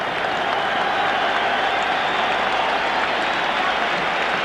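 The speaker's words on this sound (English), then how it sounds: "the crowd give him a rousing round of applause" Football crowd at a 1986 World Cup qualifier between Ireland and the Soviet Union applauding a substituted player, a steady broad wash of clapping from the stands throughout.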